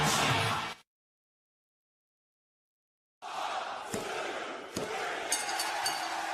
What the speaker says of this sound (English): Standing ovation from this capacity crowd to the champion, Hulk Hogan.